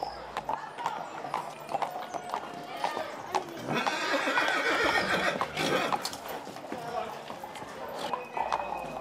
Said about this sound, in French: Les chevaux se mettent en route pour un long défilé à travers la ville.